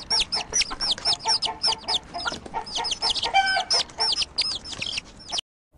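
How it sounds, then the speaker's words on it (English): A hen clucks in quick, repeated bursts with a rooster-like call in the middle, close and clear, with no talk, before the sound cuts off abruptly. "H for hen."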